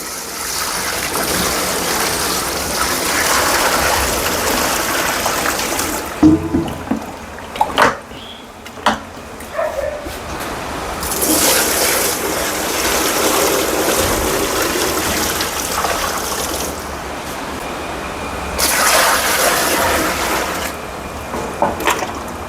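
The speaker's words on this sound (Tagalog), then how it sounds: "lagyan na natin ng tubig" Water poured and splashing onto a stored cowhide being soaked, a steady close wash of running, trickling liquid with brief pauses and a few knocks between pours.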